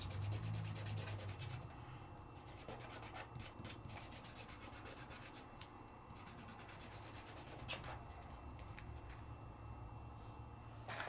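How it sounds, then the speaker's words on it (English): Pearl powder being burnished onto double-sided adhesive, a steady close dry rubbing that runs throughout with small scratchy flicks and no talk. "give it a burnish, just to kind of rub it in and cement it into that sticky"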